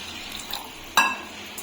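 A spoon scrapes and clinks once against a bowl while mixing water into thick chitoi pitha rice batter, with a low wet stirring hiss around it, close and fairly quiet.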